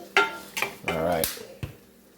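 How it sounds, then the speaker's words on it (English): A utensil stirs sliced apples with maple sugar in a cooking pan, giving a few sharp, close clinks and scrapes against the metal, plus a longer grinding scrape midway, with no talking. "So you're just going to keep stirring at this point"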